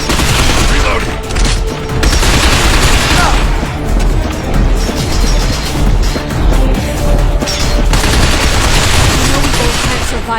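Heavy sustained gunfire from the video game Binary Domain, dense overlapping bursts and booms filling the whole stretch, loud and continuous with brief dips, voices shouting faintly underneath.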